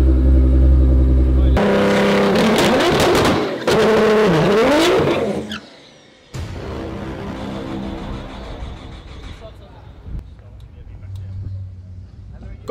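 A 2000hp Nissan GTR R35 engine runs and revs loudly up close, with sharp throttle blips and a sudden cut, followed by a quieter idle while people talk over it.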